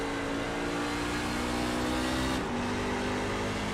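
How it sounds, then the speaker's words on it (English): Race truck engine in a sim racing game at Richmond Raceway, held at a loud, steady high-revving roar as the throttle is stamped, with a brief dip and shift in pitch partway through, close and continuous with no talk. "You can hear him really stamp on the throttle already."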